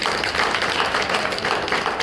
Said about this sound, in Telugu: ఒకసారి గట్టిగా చప్పట్లు పోతే